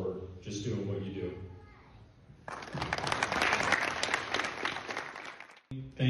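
An award ceremony crowd gives a loud round of applause for police department members, a dense, sustained clapping for about three seconds that follows someone speaking and cuts off sharply before he resumes.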